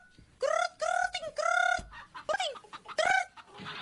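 Chickens squawk and cluck in several loud, close bursts with short pauses between them, the calls rising and falling.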